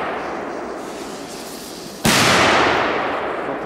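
One sharp, loud blast from a Polish firecracker, coming in after a couple of seconds of quiet background and then fading into a long echoing tail.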